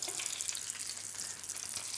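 Potatoes sit in hot oil for roasting, a steady bright sizzle and crackle hissing continuously at moderate loudness, close by, with no talking.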